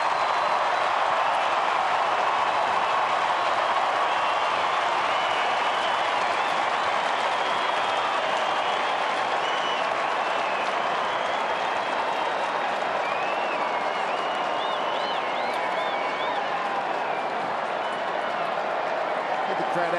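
Stadium crowd at an AFL match between Fremantle Dockers and Collingwood cheering a Fremantle goal at night, a continuous loud roar with clapping that holds steady for the whole stretch, with faint whistles and a commentator's voice underneath.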